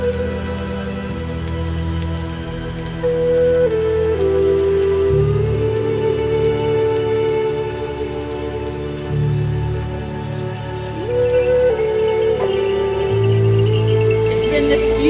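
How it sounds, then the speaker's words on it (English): Steady rain falling through thick mist on a mountain trek around Kailash, a continuous close hiss of drops on surfaces with no voices, holding level throughout. "It's been this beautiful rainy mist all day long."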